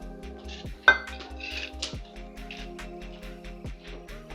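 A spoon works spices into a potato and spinach pakora mixture in a bowl, giving close, repeated clinks and scrapes against the dish along with soft, steady rhythmic stirring thuds.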